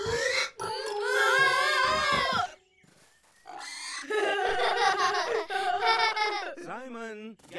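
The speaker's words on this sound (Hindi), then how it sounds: "तो ये बड़ा पिग है जो तब से आवाज कर रहा था।" A large pig grunts and squeals in loud, drawn-out bursts with a short pause between, the calls rising and falling in pitch.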